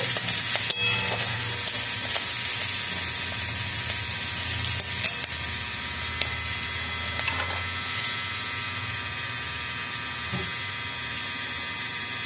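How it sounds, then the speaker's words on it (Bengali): Dense, steady crackling sizzle of whole cumin seeds and bay leaves frying in hot oil, continuous and fairly close, with occasional light clicks. "গোটা জিরে ফোড়ন দিতে হবে।"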